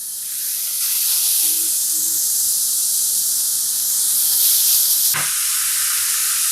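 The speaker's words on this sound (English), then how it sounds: "Ooh, hear that sizzle." Loud, steady sizzling hiss of burger patties on a hot grill, continuous throughout with a brief shift near the end.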